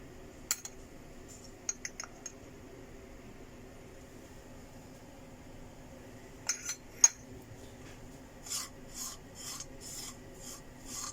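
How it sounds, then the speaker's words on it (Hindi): Spiced potato curry (aloo ki tarkari) is mashed and stirred in a pan, giving sparse metallic scrapes and clinks, then a run of rhythmic rasping strokes, over quiet background hum. "अब इसी तरह से इसे मैश कर कर के चलाते रहना है कि पाउडर भी इसमें अच्छे से मिक्स हो जाए।"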